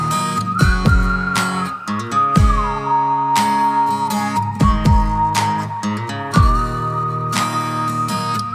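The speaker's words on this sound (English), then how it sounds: "Love the whistle" A melodic whistle carries the tune of a rock song, clear and prominent over strummed guitar and a steady drum beat.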